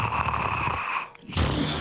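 A voice imitates snoring with a rough, drawn-out rasping breath, then a short pause and another snore-like breath, close and fairly loud.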